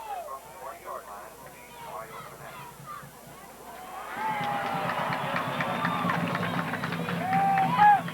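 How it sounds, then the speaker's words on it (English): A football crowd at a high school game between the Stanton Buffaloes and Seagraves Eagles murmurs and cheers before kickoff, a distant hum that swells louder halfway through, with a voice talking over the first part. "You can hear the crowd just getting ready for the kickoff now."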